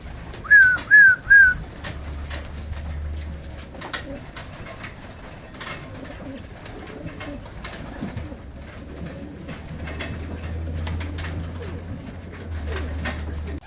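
A few short whistled call notes at the start, then soft cooing of racing pigeons with light rustling and distant low hum.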